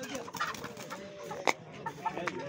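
Chickens and roosters sold for slaughter cluck and squawk at the Sungurlu poultry market in Çorum, Turkey, with scattered calls close by and one sharper squawk standing out amid busy market background noise.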